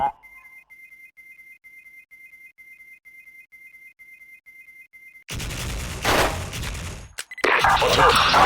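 Shooter video game gunfire: quiet, evenly spaced electronic beeps tick for several seconds, then loud, dense bursts of rapid fire erupt near the end, broken by one brief gap.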